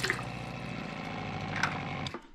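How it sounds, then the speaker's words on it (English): Water flowing smoothly and steadily from a pressurized trailer water tank, a continuous close rushing with no pulsing, heard alone. "Look at how smooth that water's coming out."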